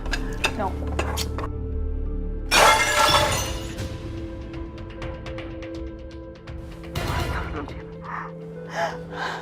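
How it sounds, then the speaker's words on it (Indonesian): A plate shatters on the floor and food spills during an argument at home, with a loud crash mid-clip followed by scattered clattering pieces, a second smash later, under tense talk and gasping. "sekarang pecah piringnya berantakan semua makanannya"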